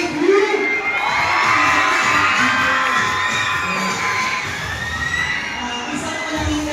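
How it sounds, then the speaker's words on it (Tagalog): Schoolchildren at Lakeview Integrated School's MAPEH Month opening ceremony shout and cheer in a loud, sustained crowd roar with whoops and high-pitched yells, steady throughout with no clear break. "Isang masigabong palakpakan at sigawan nga Lakeview!"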